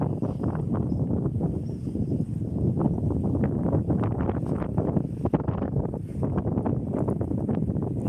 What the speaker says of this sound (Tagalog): malakas po yung hangin at maalon po